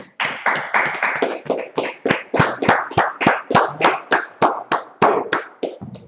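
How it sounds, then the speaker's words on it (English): A group claps together at a Feast of Tabernacles gathering, sharp hand claps in a steady, fast rhythm, around three per second, loud and close for six seconds with no talking. "Let's clap it up, Hawkins."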